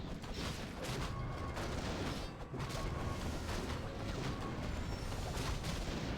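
Warcraft III mortar teams firing in a match, a dense continuous barrage of booming and crackling explosions layered with battle clatter, steady and loud throughout without pauses; no speech audible.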